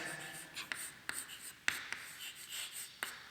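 Marker or chalk writes on a board while a sets problem is worked out, giving soft scratchy strokes with a few sharp taps, faint and close in a quiet room.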